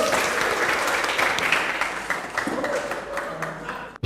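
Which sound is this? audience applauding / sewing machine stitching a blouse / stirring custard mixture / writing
audience applauding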